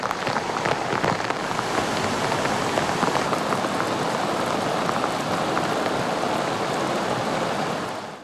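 Heavy rain pours down during a record rainstorm on northern Lantau Island, Hong Kong, a dense, loud, continuous roar of drops on surfaces that fades out only at the very end.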